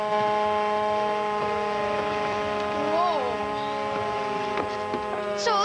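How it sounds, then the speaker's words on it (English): An air raid siren wails continuously under a low mains-like hum, its pitch sliding up and down in slow swells, steady and fairly loud throughout without clear talk. "That's the air raid siren."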